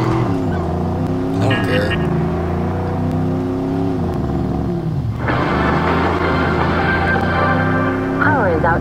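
Stolen Camaro in Watch_Dogs with its engine revving loudly and steadily, rising and falling in pitch with a tire squeal near the end, while a voice talks over it.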